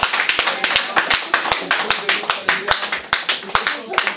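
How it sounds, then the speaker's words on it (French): A church congregation claps in steady rhythmic unison to acclaim God, sharp evenly spaced hand claps repeating quickly throughout, with voices and cheering blended beneath the beat. "Est-ce qu'on peut acclamer Dieu très fort?"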